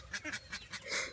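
Ducks on a duck farm give a quick run of short, nasal quacks and honks close by, several calls packed into about a second.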